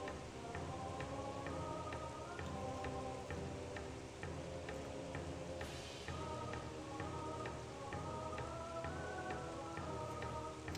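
Heavy rain pours steadily in a tabletop fantasy role-play setting, a dense continuous wash of drops with faint ticking patter, even and close throughout with no talking.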